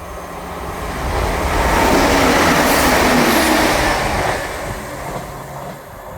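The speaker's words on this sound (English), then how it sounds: "Passing through now is a Scotrail on an ECS." A ScotRail empty coaching stock train runs through Edinburgh Gateway station without stopping, its broad rumble swelling to a loud peak, then fading as it moves away.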